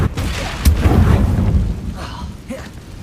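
A Confringo blasting spell from Hogwarts Legacy going off as a loud, low booming explosion with a rumbling tail, followed by fainter crackles and pops.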